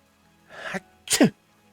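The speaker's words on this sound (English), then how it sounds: "The powerful sneeze draws me away from my meandering thoughts" A single forceful sneeze with a short sharp intake before it, close and loud, alone against quiet.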